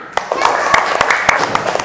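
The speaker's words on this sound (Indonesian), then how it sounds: "Tepuk tangannya mana?" Schoolchildren clap in a classroom, a brisk, uneven patter of hand claps with voices mixed in throughout the short burst.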